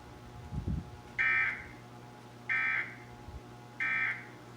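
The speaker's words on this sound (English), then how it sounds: "This is a test of the emergency alert system." The Emergency Alert System test alert tone for a Texas monthly test on WFAA-TV comes as three evenly spaced, steady electronic beeps of about half a second each, moderately loud over faint background hum.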